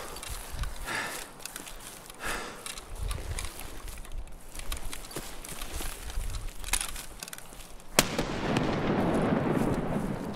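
Grenade explosions in a video game set in woods, a run of sharp bursts and pops with a heavier blast near the end, heard without talk.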